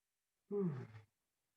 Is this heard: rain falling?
no